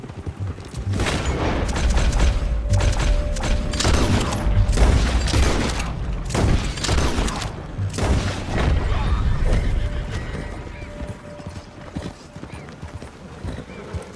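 Several loud gunshot bursts in Red Dead Redemption 2, scattered unevenly among horse hooves clopping and low rumbling booms, with a brief voice in the mix.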